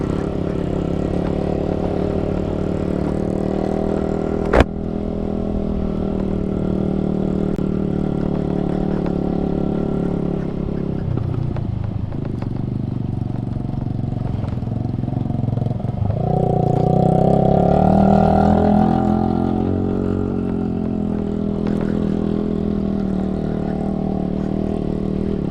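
Adventure 390 motorcycle engine droning steadily and loud through an off-road hill climb, a sharp knock near five seconds and a rising, revving surge toward the end.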